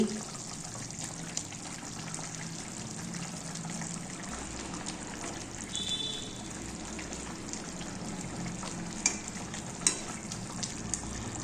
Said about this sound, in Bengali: জল ঝরানো চিড়েগুলো দিয়ে দিচ্ছি